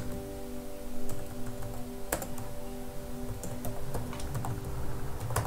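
Fingers type on a computer keyboard while entering names and contact details into an Excel spreadsheet, a quiet uneven run of clicks and taps over a low steady hum, with no talking.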